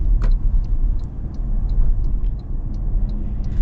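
A lifted new Toyota Tacoma pickup drives slowly through a parking lot at full steering lock, heard from inside the cab as a loud, steady low rumble with faint ticking and clicks above it.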